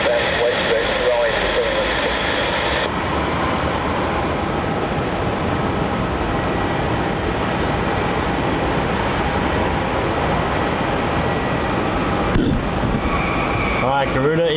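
Garuda jet airliner rolling for takeoff on runway 27 at Melbourne Airport, a loud, steady roar of engines that holds for the whole stretch, with radio chatter and voices underneath.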